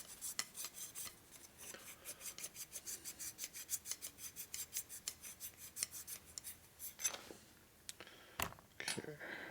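A 1961 Harley-Davidson Sportster XLCH transmission part is lapped back and forth with lapping compound, giving a steady, rhythmic rasping scrape of about twenty close, even strokes that breaks off near the end with a couple of brief knocks.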